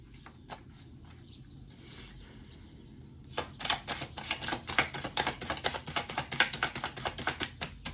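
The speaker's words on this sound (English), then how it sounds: "When they're new, sometimes they're really hard to shuffle." A deck of new tarot cards being shuffled, a faint rustle at first and then a quick run of sharp, close riffling flutters that grows louder.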